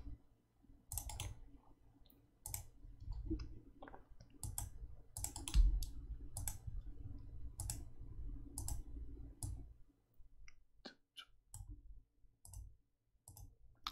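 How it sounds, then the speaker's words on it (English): Loud computer keyboard typing up close, bursts of sharp clicking keystrokes in irregular runs with brief pauses, fairly quiet overall and without speech. "my keyboard is insanely fucking loud"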